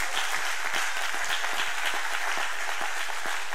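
A church congregation applauds steadily, with dense, sustained clapping filling the room at an even level from start to finish.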